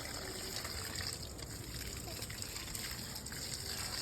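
Water being poured onto a plant, a faint continuous gush and trickle close by with soft background noise and a hint of voices.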